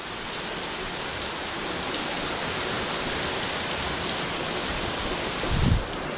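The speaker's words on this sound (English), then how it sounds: "It's just raining really hard." A heavy, steady downpour from a sudden storm hisses continuously, with a brief low rumble swelling near the end.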